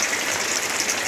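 Rainwater from a garden catchment container pouring into a bucket, a steady close splashing gush with bright hiss that runs unbroken throughout.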